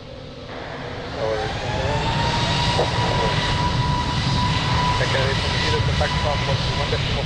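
An airliner's jet engines roar steadily through a takeoff roll at Lisbon Airport, the sound swelling after the first second and staying loud and broad, with faint radio chatter heard underneath.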